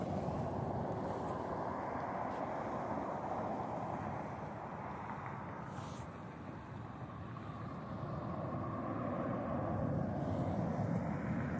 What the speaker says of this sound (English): The F-16s, there they are.